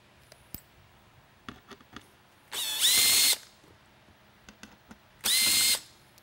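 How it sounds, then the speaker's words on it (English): A power screwdriver runs in two loud, steady bursts of about a second each, its motor whine rising in pitch, separated by faint clicks and handling taps while loosening screws on a SoundOff Pinnacle Mini LED lightbar with an aluminum heat sink. "Loosen the 2 screws there."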